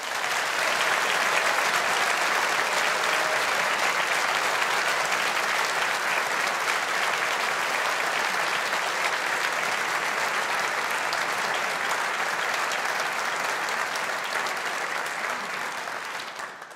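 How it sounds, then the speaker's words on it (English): A large audience at a university humanities graduation ceremony applauds the graduating alumni, with loud, dense, continuous clapping throughout that fades slightly near the end. "Let's all show our appreciation with a collective round of applause for our alumni."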